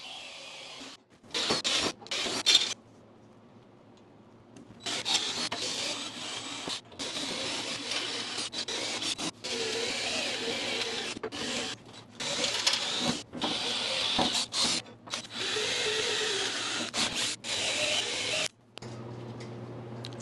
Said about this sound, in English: Seems like it makes sense to drill and tap all these holes around the perimeter while this is still flat.